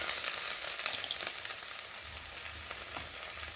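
Taro sizzles and fries in a pan with ginger-cumin paste and chili powder, giving a continuous close crackling hiss with light stirring scrapes.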